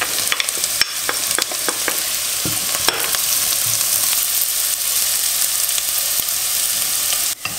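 Carrots and onions fry in a pan with a loud, steady sizzle, broken by scraping and tapping as they are stirred, close up with no talking.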